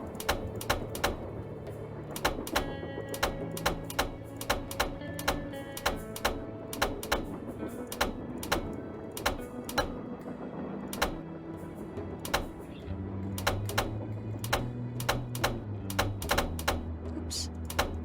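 A steady run of crisp, close clicks from a puzzle being worked in the Nancy Drew game Last Train to Blue Moon Canyon, dense and irregular over a faint musical drone, with no voices.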